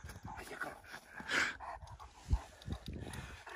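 A dog pants in quick, uneven breaths with a short whimper-like burst, fairly close and fairly quiet against a faint outdoor background on the Handüzü plateau in Rize, Turkey.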